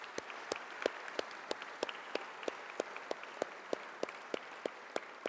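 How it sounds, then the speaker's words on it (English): Sparse, distinct claps ring out at a forum gala dinner, single hand strikes at a fairly regular pace over a quiet room, faint and somewhat distant. "Let's give them a round of applause."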